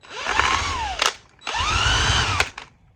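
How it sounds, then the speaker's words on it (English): A power drill whirs in two long bursts with a brief pause between, its pitch dipping and rising as it spins a chimney sweep brush at speed 3. "I'm gonna rack this into my drill."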